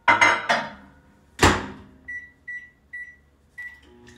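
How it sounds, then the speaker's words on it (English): A microwave oven heating caramel corn gives a few heavy clunks of the door and buttons, then a series of short, clear, evenly spaced electronic beeps, close and fairly loud. "her recipe says we're going to put this in the microwave for 30 seconds"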